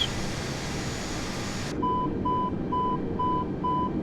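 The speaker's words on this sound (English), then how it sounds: "Turn off the alarm." A cockpit alarm in Flight Simulator 2020 beeps in short, evenly spaced tones, roughly two per second, close and clear over a steady background hum from the aircraft.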